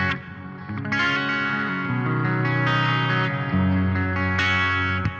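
An electric guitar played through a BOSS GT-1000 with cabinet simulation, reverb and delay rings out in stereo, sustained distorted chords shifting every second or so, with shimmering echoes trailing each change.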